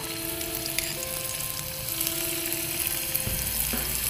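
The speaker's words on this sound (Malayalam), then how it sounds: "അതിലേക്ക് നമ്മൾ ഓരോ പ്രോൺസ് വീതം ഇട്ടിട്ട് ഒന്ന് ഫ്രൈ ചെയ്തെടുക്കുകയാണ്" Prawns frying in hot oil, one at a time, a dense, even sizzle crackling steadily throughout, close and fairly loud, with a soft tonal hum underneath and a brief knock near the end.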